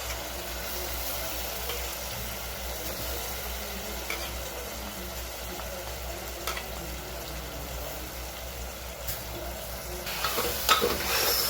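Chopped onions and potatoes frying in spiced masala, a continuous dense sizzle close up with occasional scrapes and clinks of the stirring spoon, growing busier toward the end, no talking.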